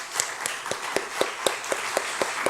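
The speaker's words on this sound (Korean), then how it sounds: "이 자녀들 축복하는 마음으로 박수 한번 쳤으면 좋겠습니다." A church congregation claps to bless the children seated upstairs, producing rhythmic, evenly spaced claps at a brisk steady beat, moderately faint and slightly distant in a large room.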